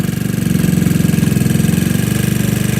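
A GY6 scooter engine idles close by with a steady, rapid low putter and even pulsing throughout.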